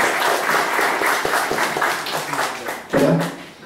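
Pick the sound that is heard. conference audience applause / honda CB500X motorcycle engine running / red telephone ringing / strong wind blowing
conference audience applause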